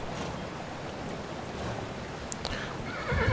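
A horse neighs in the video game Kingdom: New Lands, a brief whinny rising near the end over a steady wash of ambient water and wind-like game background.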